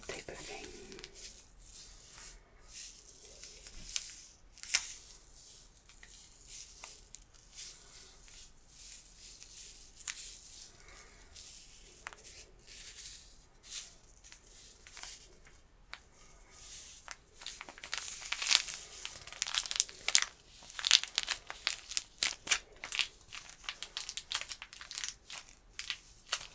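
Small drink mix packets, one caffeinated and one Propel-style, rummaged from a work bag, with close soft crinkling and crumpling that grows busier toward the end under intermittent whispery talk.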